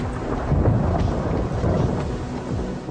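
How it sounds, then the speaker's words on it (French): Heavy rain pours steadily while deep rolling thunder rumbles close and loud throughout, a dense continuous storm wash with no voices. "Une pluie brûlante s'abat"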